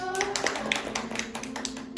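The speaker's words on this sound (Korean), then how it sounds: "박수" Light applause from a small church youth group welcoming people at a worship service, a few scattered claps heard under a speaking voice.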